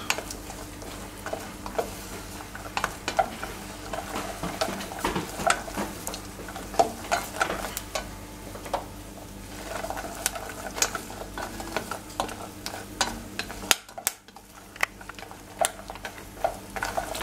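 Light caramel for praliné is stirred in a pan, giving a steady soft scraping and faint sizzling that continues throughout, with brief louder clinks.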